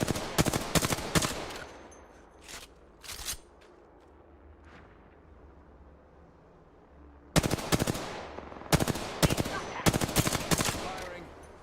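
Automatic gunfire in Apex Legends comes as loud, rapid bursts, with a pause of quieter sound between an early flurry and a later run of shots.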